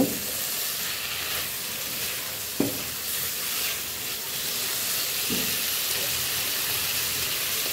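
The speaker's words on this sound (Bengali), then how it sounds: "ভেজে রাখা মাছগুলো দিয়ে দিই, মাছগুলো দিয়ে একটু মিশিয়ে নিয়ে" Fried fish tipped into a sizzling vegetable and spice mix in a pan, a steady loud sizzle with a couple of sharp scrapes as it is stirred.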